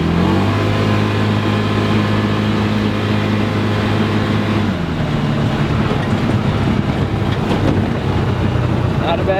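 Gravely Atlas JSV 3000 utility vehicle driving, a loud steady engine drone close to the microphone with wind noise, the pitch dropping partway through as it keeps moving.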